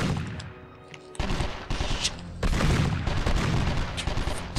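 Bursts of gunfire ring out in 24: The Game on PS2, with sharp shots at first followed by two longer sustained volleys of rapid fire that sound close and loud.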